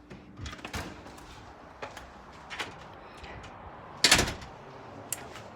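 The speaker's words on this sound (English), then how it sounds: "We're gonna go out the front door." A house's front door opens with one sharp knock or latch clack in the middle, set among quieter shuffling and handling noises close by.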